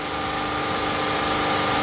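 A Dodge Journey engine idles steadily while its cooling system is bled, giving a loud, close, even hum with a broad fan-like whoosh and no voices.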